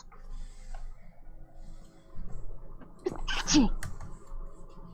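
A single sharp sneeze bursts out near the mic amid low background chatter at a tabletop role-playing game session, with a brief voiced tail after it.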